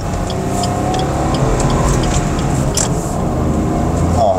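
A 2024 Suzuki S-Presso AGS with a 3-cylinder engine runs with a steady, loud, continuous engine drone that holds without any clear rise or fall.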